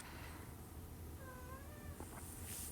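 Sky, a pet cat, lets out a short, faint whining meow once, with some higher cries near the end, quiet against steady room noise and with no talking.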